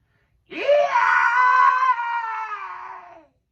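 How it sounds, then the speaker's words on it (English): A blood-curdling shriek from Gollum, a single sustained high wailing scream of about three seconds that rises sharply, holds loud and then trails off, alone with no talk. "All at once there came a blood-curdling shriek"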